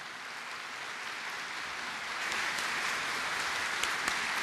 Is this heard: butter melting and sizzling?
no